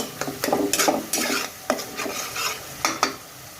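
Spoon scraping and stirring pumpkin curry masala in an oiled pan, with a faint sizzle; several distinct stir strokes, close by and fairly loud, no talk.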